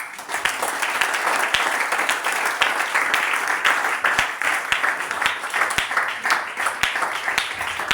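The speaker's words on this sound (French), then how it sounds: "Est-ce qu'on peut acclamer pour l'homme de Dieu qui est là présent?" A church congregation claps and applauds steadily and loudly for several seconds, a dense wash of hand claps with a few sharper individual claps standing out and no clear speech.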